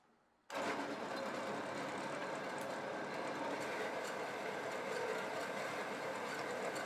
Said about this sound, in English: I'll chuck this in the bandsaw and slice off a section